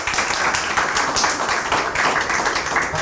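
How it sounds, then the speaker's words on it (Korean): Steady audience applause and clapping fills the whole stretch at a lecture for council members, a dense, even patter of many hands at close range with no voices standing out. "여러분, 박수!"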